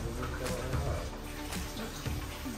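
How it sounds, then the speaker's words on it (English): Water pours and splashes steadily into cornmeal for porridge, with a soft stirring scrape underneath and no talking. "And while you're adding the water, you're stirring it like this"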